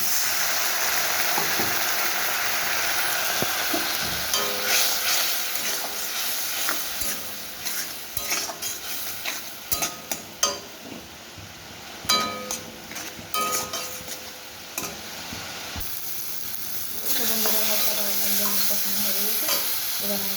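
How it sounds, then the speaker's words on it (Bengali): Spices and fish curry sizzle and fry in a pan after water is added, with scraping spoon stirs, clinks against the metal and a rising hiss of frying throughout. "আমি এবার জল দিয়ে কষিয়ে নিই"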